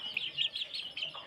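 Free-range country hen with her seven young chicks: quick, high-pitched chick peeps repeat in short bursts, fairly faint and close, with no talking.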